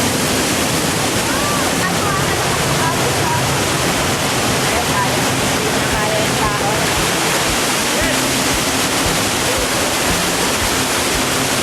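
Waterfall and flowing river water at Boutique Falls in Olongapo roar loud and constant, close to the listener, in a dense unbroken wash with faint voices beneath.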